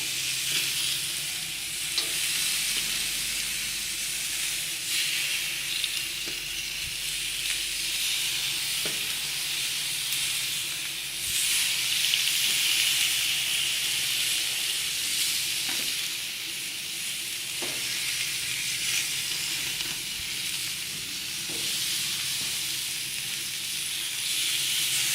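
Lamb lollipops laid on a hot grill to cook rare, giving a constant loud hiss and sizzle with faint clicks and small bumps throughout, close up and without speech.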